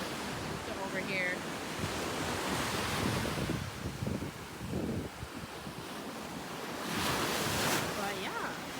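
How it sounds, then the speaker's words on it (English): Surf rolling onto a small, steep black sand beach in Puerto Rico, with continuous wave wash and wind rumble; a voice speaks briefly over the steady roar of breaking water. "Welcome to Black Sand Beach, Puerto Rico."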